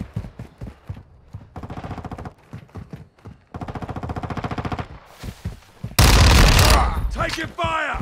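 Gunfire in Call of Duty MW2 multiplayer, rapid SMG bursts in short volleys, near and loud, with a heavy explosive blast near the end, under occasional talk.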